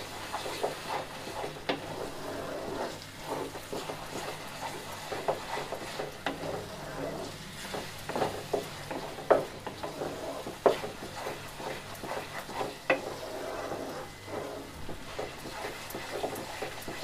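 Onions fry in a pan for a mushroom and peas curry, a soft continuous sizzle broken by repeated stirring scrapes and spoon taps, with no talk.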